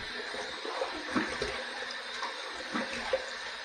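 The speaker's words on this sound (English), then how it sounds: "I just like to wet the face there before I put the hot towel on there" Water runs faintly from a tap in a barbershop-style shaving setup as a face is wetted before a hot towel, a soft steady splashing with a few small splashes, quiet and without talk.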